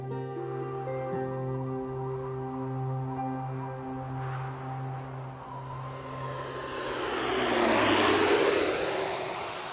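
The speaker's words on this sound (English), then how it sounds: "My plane touches down on a 4-mile-long windswept strip of land known as Barter Island" A plane touches down on a long windswept airstrip on Barter Island at the edge of the Beaufort Sea, its engine droning steadily and then swelling into a louder roaring rush as it lands, with no talk.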